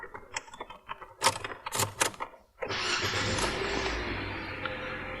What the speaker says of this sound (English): We'll start the vehicle with the new key